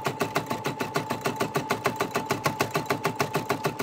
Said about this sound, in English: That does sound like a sewing machine.